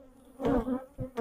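Honeybees buzzing close at an open beehive, a loud droning hum that swells and fades in short surges.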